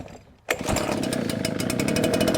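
An ECHO PB770T backpack leaf blower's two-stroke engine catches after a pull start, jumping abruptly from quiet to a loud, steady, buzzing idle that continues close by.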